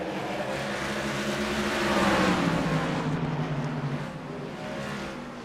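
Race trucks in a racing video game, Tuesday Night Truck Series practice session, roar steadily as engines rev and drone through a lap, loud and continuous with a slight rise and fall in pitch.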